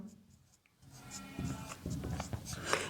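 Someone writes by hand on paper, making soft scratching and rubbing strokes in short bursts close to the listener. The strokes follow a brief quiet start, with a faint room hum underneath.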